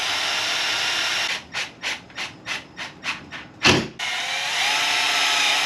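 A power drill drills a hole while building a potato cannon: a steady broadband whir breaks into a run of eight quick rhythmic grinding pulses and a heavier thunk, then the whine resumes, close and continuous.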